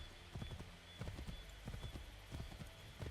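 Horse hooves clip-clop steadily on a road in Assassin's Creed 3, a brisk rhythmic gallop of repeated thuds heard close and alone, with no talking.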